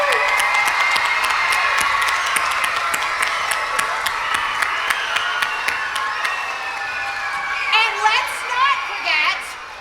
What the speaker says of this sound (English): Can we give a big round of applause to your teachers who brought you here today?